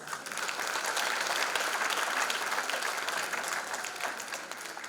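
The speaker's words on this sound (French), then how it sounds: "sous vos acclamations" An audience at a gospel concert claps enthusiastically, a thick, continuous wash of applause that holds steady for several seconds before easing slightly.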